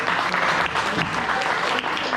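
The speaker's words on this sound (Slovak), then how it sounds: "Na zdravíčko, na zdravie a veľký potlesk." Steady applause from a wedding audience for a newlywed couple, dense continuous clapping close by with a faint voice underneath.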